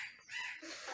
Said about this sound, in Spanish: Muchos pájaros, se escucha ahí en el video